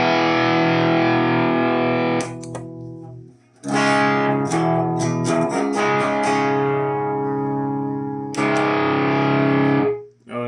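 Distorted electric guitar through a DIY pedal with LED clipping, played into a clean amp channel: sustained chords and bursts of strummed notes with gritty saturated harmonics, loud and close, with short gaps between phrases.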